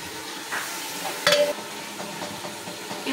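Beef shank meat frying and being stirred in ginger garlic paste for nihari, a steady close sizzle with a sharp scrape or clatter of the spoon partway through.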